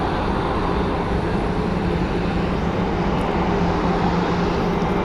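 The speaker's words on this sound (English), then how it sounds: "This aircraft's getting ready to get pushed back here shortly." Steady, loud broadband roar of an airliner's engines idling at the gate at Phoenix Sky Harbor airport before pushback, constant throughout with no breaks.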